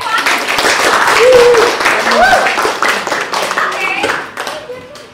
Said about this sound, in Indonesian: kita kasih aplaus untuk Jevon